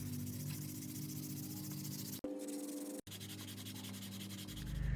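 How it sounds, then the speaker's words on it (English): Rhythmic scratchy rubbing of 120 grit sandpaper over a wooden banana holder, steady and close, broken by two brief pauses before the strokes resume. "we're going to sand it. I'm using a 120 grit sandpaper."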